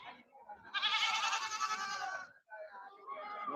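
Goats bleat loudly and close at a Thursday goat market in Thoothukudi district, Tamil Nadu, a long sustained cry followed by another bleat, over background market chatter.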